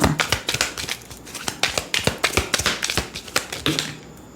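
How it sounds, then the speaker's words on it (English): Oracle cards shuffled by hand during a reading, a steady run of crisp papery riffles and taps close to the mic with no talking. "I'm just going to shuffle a couple more."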